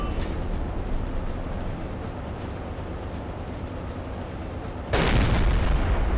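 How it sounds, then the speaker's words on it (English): A U-boat deck gun in Silent Hunter 3 sounds over a constant rumbling background, and one loud, sharp shell firing bursts out near the end. "The gunners are finding their range. So we're expending a lot of shells on this."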